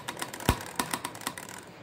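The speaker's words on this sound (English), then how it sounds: "this is Morse code" Old Morse code telegraph key at a train depot museum, tapped in a quick irregular series of sharp clicks, close and clear with no talk.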